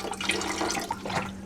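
White distilled vinegar is poured into the water of a canning bath, a short burst of splashing, gurgling liquid over a faint steady hum, quick and moderately close.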